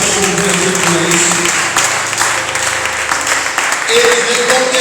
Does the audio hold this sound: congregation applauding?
yes